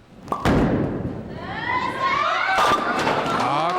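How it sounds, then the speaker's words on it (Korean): A 16-pound bowling ball at a national bowling tournament lands with one heavy, booming thud early on, followed by lively crowd voices and cheering. "강력한 예 볼이 쿵 하는 소리 났죠?"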